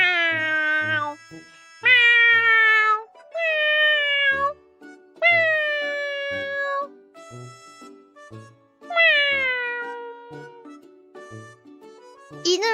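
A human voice imitates a cat, giving a series of drawn-out, expressive meows that rise and fall, separated by short pauses and clearly heard alone.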